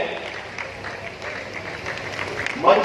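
An audience claps continuously through a hall at a public event where a Deputy Chief Minister launches divisional development projects, a dense steady patter under a voice speaking over it.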